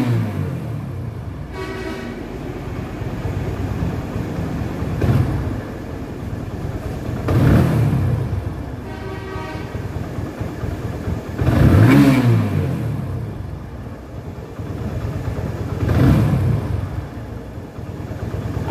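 A TVS Apache RTR 150cc motorcycle engine, just rebuilt, idles loudly and is revved in several swelling bursts spaced a few seconds apart, close up and rough between pulls.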